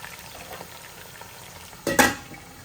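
Quiet frying crackle of chicken pieces in oil, small pops and sizzle, then a brief louder clatter of stirring or a pan near the end.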